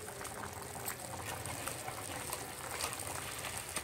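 Country chicken curry boiling in a pot, a soft continuous bubbling and simmering hiss, faint and steady with no talk.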